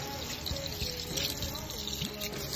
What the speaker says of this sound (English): I'm just going to rinse the tires off first and the bearings.